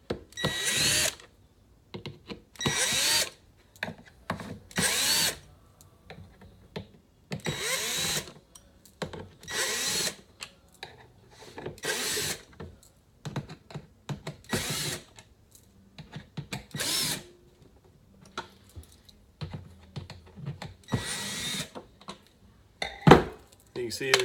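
A power drill whirs in repeated short bursts as it backs out Torx 20 bolts from a Husqvarna automower, with clinks of metal parts between the runs.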